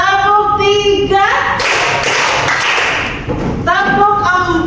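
A classroom of students claps a counted three-beat rhythm pattern, producing a dense burst of loud, close hand claps between a teacher's spoken prompts.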